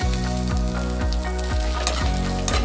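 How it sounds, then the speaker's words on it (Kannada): Garlic and tamarind fry in a little oil for mint chutney: a steady, close sizzle with rhythmic stirring strokes roughly every half second, and no talking. "ಚೆನ್ನಾಗಿ ಹುರ್ಕೊಳ್ಳೋಣ. ಸ್ವಲ್ಪ ಕೆಂಪಿಗೆ ಬರಲಿ"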